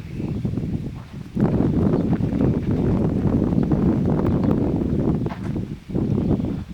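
Breezy wind at an outdoor shooting range, a loud, rumbling buffet against the microphone that gusts continuously with brief lulls.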